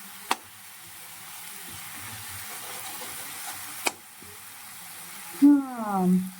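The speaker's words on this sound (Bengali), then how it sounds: "খুন্তিটা নাড়লে দেখো তেল ছাড়তে শুরু করে দিয়েছে" Spice paste frying in oil on a high flame, a soft steady sizzle broken by two sharp spatula knocks against the pan, with a short burst of voice near the end.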